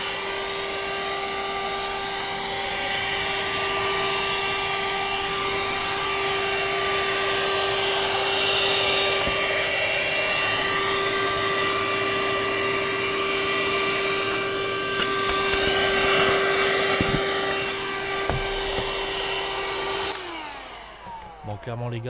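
A vacuum cleaner runs continuously while a BMW Z4 35i is cleaned, giving a loud, steady whine with shifting pitch as the nozzle moves, then cutting off near the end.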